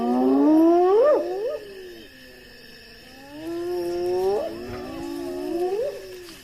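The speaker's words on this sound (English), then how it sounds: "Hyenas, the lion's eternal rivals, are quickly on the scene." Hyenas calling near a lion kill by a Zambezi river, a few rising, whooping cries in two loud bursts with a quieter gap between, close by and without speech.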